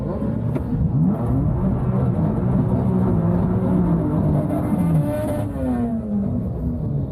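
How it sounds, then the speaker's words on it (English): A 700hp BMW M3 does a burnout on drag-strip Toyo tires at 25 PSI, a loud sustained engine roar with rising and falling revs and hissing tire spin, close and continuous. "That was a decent burnout."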